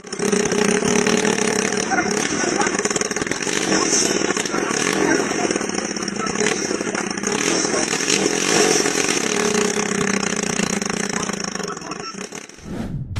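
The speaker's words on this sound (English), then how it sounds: "The rotor spins at full speed, the engine rumbles, the frame reacts" A homemade helicopter's loud, steady engine roar drones continuously with a buzzing, rattling mechanical edge, close by, then cuts off abruptly near the end.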